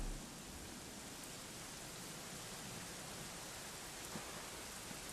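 Steady, dense rain hiss in the video game Dragon Quest, with no break, a constant wash of falling water that fills the whole stretch evenly.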